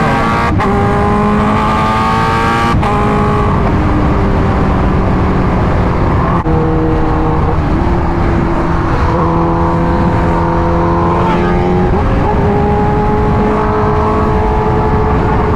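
A Kawasaki Ninja H2R motorcycle at full throttle, very loud and close, its engine note climbing steeply through repeated rising sweeps separated by brief gear-change breaks, with heavy wind roar throughout.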